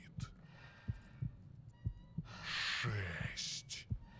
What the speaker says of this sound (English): feel your heart pounding